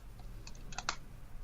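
A few quick, soft keystrokes on a computer keyboard, faint and close against a quiet room background.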